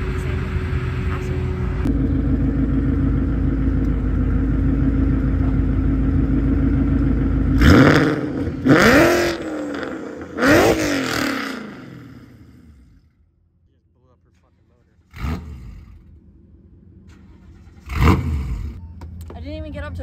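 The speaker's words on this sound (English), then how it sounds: "So I'm going to rev her from 3, 5, and 7 grand" A car engine fitted with a Borla exhaust and Dynatech headers holds a loud, droning rev, then fires off several sharp blips that drop away to near silence before two shorter bursts, heard up close.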